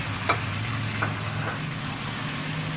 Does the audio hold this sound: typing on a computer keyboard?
no